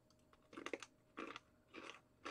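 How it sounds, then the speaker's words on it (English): Thick caramel-coated yam or sweet potato chips are crunched in four close, loud bursts of chewing with short pauses between, and no talk over them. "And they're very thick, and they're very, very crunchy."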